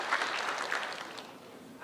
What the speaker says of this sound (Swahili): najua mmewapigia makofi sana kwamba wanatoka na huku kwenu